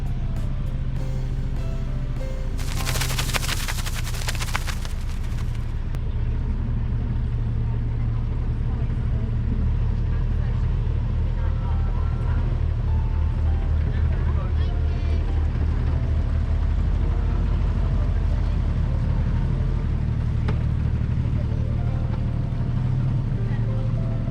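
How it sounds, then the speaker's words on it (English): A narrowboat's motor drones steadily nearby, its low rumble swelling and fading as it passes, with a brief burst of hiss early on. "we're going to stop. Let the high boat go past."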